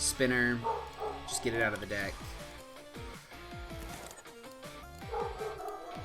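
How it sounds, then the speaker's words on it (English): A dog in the room barks and yips repeatedly in short bursts while a person keeps talking over it during a Pokémon card game session. "Excuse the dog,"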